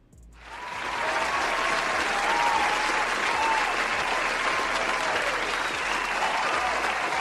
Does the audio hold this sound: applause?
yes